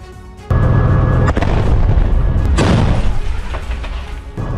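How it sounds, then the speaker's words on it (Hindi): A loud, deep blast erupts suddenly as tunnels in Gaza are destroyed, followed by a second heavy boom and rumbling debris that slowly fades. "गाजा में ये विस्फोट हमास की सुरंगों पर किए जा रहे हैं।"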